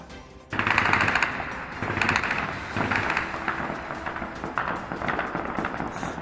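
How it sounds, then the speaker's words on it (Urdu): Sustained bursts of celebratory automatic gunfire shot into the air by Taliban fighters in Afghanistan after the US withdrawal, loud and dense rapid volleys overlapping one another, continuous throughout with no speech. "طالبان نے ہوائی فائرنگ کی اور جشن منایا"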